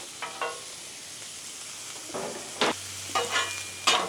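Bacon sizzles on a hot griddle running around 460 to 470 degrees, a steady close hiss broken by several short, loud scraping bursts.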